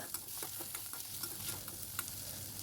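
Chana dal, urad dal, dried red chillies, shallots, garlic and tomato sauté in sesame oil in a kadai, a dense continuous sizzle with rapid crackles and stirring scrapes, close up.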